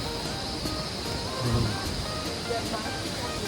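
Steady rushing water of a waterfall in Songkhla, Thailand, roaring broadly and continuously nearby, with faint voices underneath.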